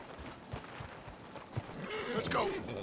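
Coach horses in the Red Dead Redemption 2 video game, with hooves clopping irregularly and a sharp whinny rising near the end, mixed under game voices.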